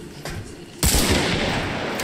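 A sharp, loud gunshot bursts in, followed by a sustained roar of echoing reverberation and background rumble, with a fainter shot-like thump just before, in the video game Hunt: Showdown.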